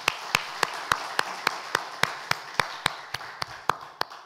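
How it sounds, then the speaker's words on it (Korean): A church congregation claps together during a Sunday service to celebrate birthdays: about fifteen crisp claps in steady unison rhythm, evenly spaced and fairly close. "우리 박수로 축하합시다."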